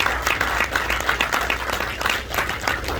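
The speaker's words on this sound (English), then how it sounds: "Let's give all of our military families a round of applause" Steady crowd applause at a military ceremony, many hands clapping continuously at moderate loudness, with no voices standing out.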